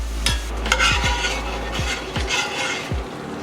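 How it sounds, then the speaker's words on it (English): Wontons crackle and sizzle in hot frying oil, a steady close hiss with scattered pops, broken by several clinking stirs and scrapes of a utensil against the pan. "Time to fry some wontons."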